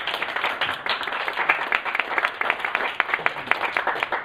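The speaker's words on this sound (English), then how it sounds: "Give him a round of applause." An audience at a Toastmasters-style table topics workshop applauds a speaker, with steady, dense clapping from a room of people, close and lively, with individual claps standing out throughout.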